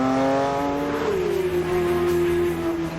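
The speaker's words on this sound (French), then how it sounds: "Un Flat 6 atmosphérique qui prend 9000 tours minute juste derrière là dans les oreilles." Porsche GT3 naturally aspirated flat-six engine revving loud and close from inside the car, its pitch climbing and then holding at a high, steady wail.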